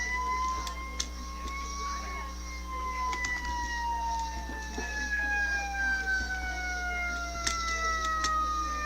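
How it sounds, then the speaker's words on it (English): Video game police car sirens wail in long, slowly falling tones, moderately distant, over a low rumble with a few sharp clicks. "Police cars chasing after him."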